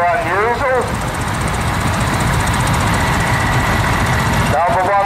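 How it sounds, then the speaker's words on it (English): A 1962 Arnoux W30B French vineyard tractor with a four-cylinder diesel engine, idling with a steady, loud knocking chug close by, briefly overlaid by a voice at the start and end. "Arnoux W30B, diesel, 1962. French Vineyard tractor with a 4-cylinder"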